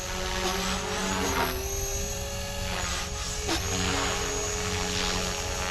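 Blade Fusion 360 RC helicopter on a 4-cell battery flying in idle up, a loud continuous high-pitched rotor and motor whine with steady blade buzz and slight pitch shifts as it maneuvers.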